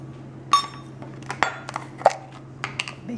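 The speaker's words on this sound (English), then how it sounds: "We're gonna mix all of our dry ingredients in here." Sugars and other dry cupcake ingredients are mixed in a bowl for low-fat vegan vanilla cupcakes, giving sparse clinks and taps of utensil against bowl over a steady low hum.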